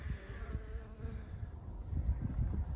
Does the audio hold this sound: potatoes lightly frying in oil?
no